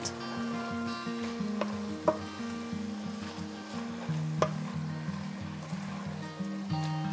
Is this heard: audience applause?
no